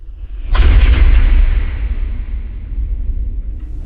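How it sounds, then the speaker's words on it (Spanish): A single heavy, booming thud on a church door lands sharply, then rolls into a long, low reverberant rumble that fades slowly. "la puerta de la iglesia retumbó con un golpe seco"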